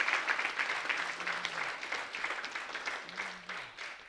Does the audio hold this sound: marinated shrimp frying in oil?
no